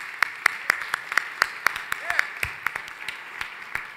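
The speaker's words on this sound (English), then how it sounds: "let's give them a round of applause right now." Sharp, evenly spaced claps ring out at a Boston roast dinner honoring Whittier Street Health Center, sounding like a small group or a few people applauding clearly and close by rather than a large roaring crowd.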